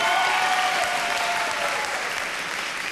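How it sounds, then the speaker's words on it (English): Audience at a singing competition applauds a contestant leaving the stage, a dense, loud burst of clapping that fades gradually over a few seconds. "please give a massive round of applause for Archie as he leaves the stage"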